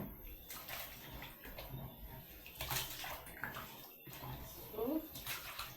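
Rice being washed in a pot of water for supper, giving soft, continuous sloshing and swishing with small splashes, faint and close.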